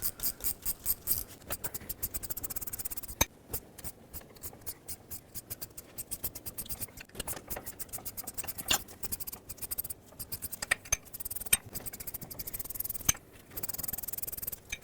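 A ratcheting wrench spins out the drive shaft bolts on a 2008-2010 Ford F-250: quick bursts of dry ratchet clicks with short pauses and scraping metal, close up and fairly quiet, with no talking.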